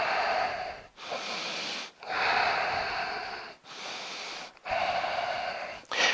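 Heavy breathing during an at-home banded workout, loud close breaths in long rasping pulls with brief pauses between, roughly every second or two, with no talking.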